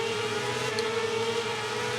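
Racing motorcycle engine holding a steady, droning pitch at the race start in MotoGP 18, Moto2 class in Spain, continuous and moderately loud with no talk.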